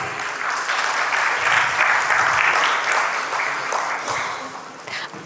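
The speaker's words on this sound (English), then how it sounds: "I need a bigger round of applause for him." Audience applause fills a Dubai event hall after the Consul General of India to the UAE speaks, a dense, steady wash of many hands clapping at close range for about five seconds.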